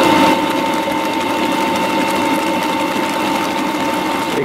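A stand mixer whips egg whites and sugar into Italian meringue for macarons, a steady high mechanical whir with a constant hum and no pauses, running continuously at close range.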